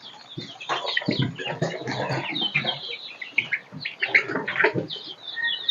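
Close, continuous clucking and low murmuring from a brooding turkey hen sitting on eggs, with soft rustling and scattered sharper calls throughout.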